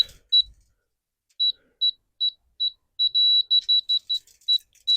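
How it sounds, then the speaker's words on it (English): A laser level beeps on a paving site, first in scattered single beeps and then in a quick run of short, high, close beeps, a few of them merging into a longer tone. "If I bring this up so it beeps"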